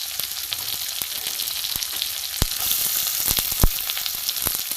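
Chopped onion and grated garlic fry in a hot pan, a steady close sizzle with scattered sharp crackles and occasional stirring clicks.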